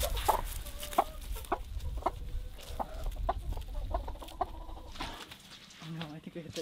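Hens clucking in an Alaskan farmyard in spring, a string of short repeated clucks and calls up close, with a few low murmured voices and background rustle.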